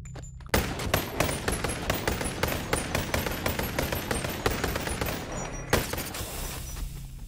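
Two Glock pistols fire in the VR shooter Boneworks, a dense, loud burst of rapid gunshots that runs for about five seconds after a brief quiet start, then stops abruptly.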